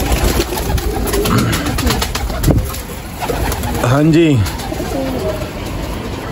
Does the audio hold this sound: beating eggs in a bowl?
no